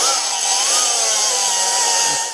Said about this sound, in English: I think I'm gonna cut the tube as close to the bottom of the tank as possible first.